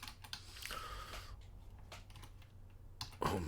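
Quick, light keystrokes on a computer keyboard, tapping in irregular bursts with short pauses, close and fairly quiet, with one louder clattering flurry near the end.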